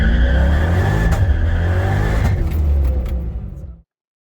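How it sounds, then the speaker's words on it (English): A C5 Corvette does a burnout bouncing off the rev limiter: loud, steady high-rpm engine roar with tire squeal for about three and a half seconds, then cutting off to silence. "let's just do one more burnout here to get some more data"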